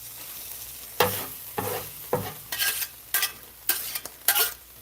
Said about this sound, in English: Mix it and chop it in.